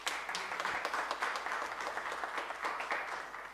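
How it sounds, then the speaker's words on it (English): Audience applause at a formal talk on Orania and self-determination, a dense, even wash of many hands clapping steadily throughout, moderately distant. "May you please give yourselves a round of applause."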